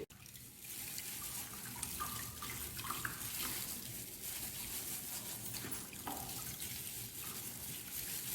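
A tap runs steadily into a sink while brass articles coated in Pitambari paste are washed, a faint, continuous trickle and splash with small clinks, no talk.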